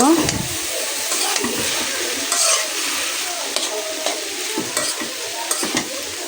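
Potatoes fry in a pan with a continuous close sizzle, broken by scraping stirs and clinks of a utensil against the pan, getting busier toward the end.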